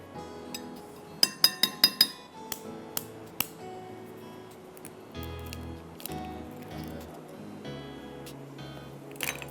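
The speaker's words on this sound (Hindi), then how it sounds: "उसके बाद हम इसमें डालेंगे 1 अंडा" An egg cracked and dropped into a bowl of cornflour and flour batter for Schezwan chowmein, heard as a quick run of sharp glassy clinks and taps against the bowl, then softer handling sounds over a low background.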